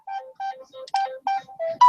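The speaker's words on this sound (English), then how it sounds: "let me answer the phone real quick." A phone ringtone plays a bright, clean melodic pattern of short repeating tones, quick and rhythmic, loud and alone.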